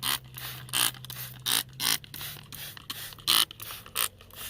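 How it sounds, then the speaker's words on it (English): A handheld pump sprayer being pumped, about eight evenly spaced rasping mechanical strokes close by, each a short burst over a faint low hum. "It's a pump sprayer deal, so it's kind"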